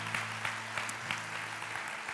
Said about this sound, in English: give Him a great hand clap of praise